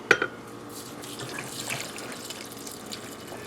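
Broth pours steadily into a Philips soup maker, a continuous close liquid splash and gurgle after a couple of initial knocks, filling the gaps among chicken corn chowder ingredients.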